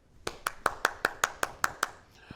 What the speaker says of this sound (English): Everybody clap for the new board.